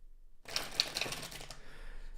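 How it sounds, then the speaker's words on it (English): Flexible tarot cards riffle-shuffled close up, a dense papery flutter of clicking card edges lasting about a second after a short silence, then trailing into soft rustling. "And we're going to do one more shuffle."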